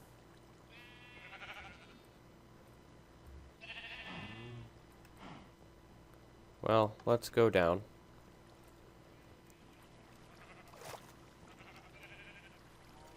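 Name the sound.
sheep bleating in a video game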